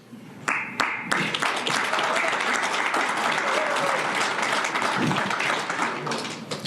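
An audience at a live show about labor organizing breaks into applause after a few sharp individual claps, swelling into a dense, sustained wash of many hands that holds steadily to the end.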